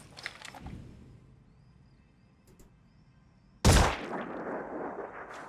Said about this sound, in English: We're going to do more shooting.